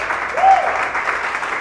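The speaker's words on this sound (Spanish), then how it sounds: "Aplauda a Jesús en esta mañana si lo crees" A church congregation claps together in a dense, continuous burst of applause, fairly loud and even throughout.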